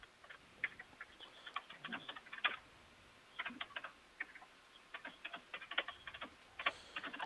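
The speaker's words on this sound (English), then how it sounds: "I'm getting some feedback of somebody typing on their laptop" Rapid clicking of laptop keys picked up over a live audio call, in irregular bursts with short pauses between, fairly quiet and close, with no talking.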